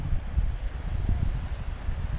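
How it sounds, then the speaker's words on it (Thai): Gusty wind buffets the microphone outdoors on a shoreline where fish are being hauled in by net, a steady low rumble with irregular louder gusts throughout. "โดนลม โดนลมพัดนะครับ"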